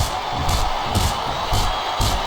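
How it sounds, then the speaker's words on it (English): A large video game crowd roars and cheers steadily, with rhythmic swells of noise every half second or so, like arena chanting, in WWE SmackDown! vs. Raw 2007 on PS2. "Sounds like this crowd's got something on their minds, King."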